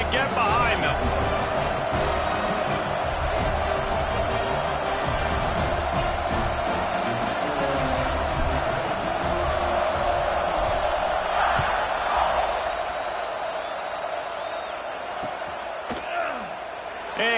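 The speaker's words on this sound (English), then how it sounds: "this crowd now ready to get behind them" Stadium crowd noise in the College Football 26 video game, a steady dense roar with rising cheers, running continuously under a play-by-play commentator's voice.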